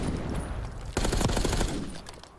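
Gunfire in Call of Duty Warzone: a dense burst of rapid automatic shots erupts after a second of low background noise, loud and close, then fades.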